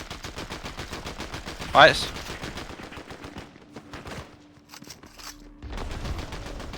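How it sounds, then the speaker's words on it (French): Rapid gunfire in the video game Fortnite rattles in dense, fast bursts, drops away for a brief pause, then resumes, with a short spoken word from a player. "il y a déjà une team qui lui tire dessus"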